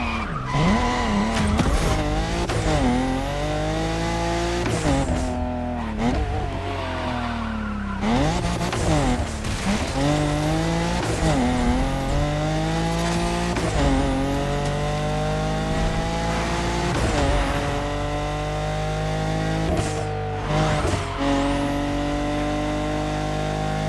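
Cars duelling on a winding Hawaiian mountain road in a touge race in The Crew Motorfest, engines whining up and down through gears with repeated long tire squeals and skids, loud and continuous.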